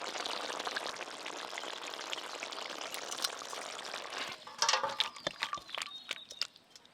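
Cooked bitter gourd and papaya shukto with milk poured out of a pan, a continuous liquid splashing and sloshing, then a few scattered clinks and drips near the end.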